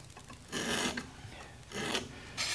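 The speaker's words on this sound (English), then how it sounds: "This little carbide scribe so that it'll make a scratch line on there." A carbide scribe scratches layout lines across a metal workpiece in three separate raspy strokes, each about half a second long, close and fairly quiet with no talking.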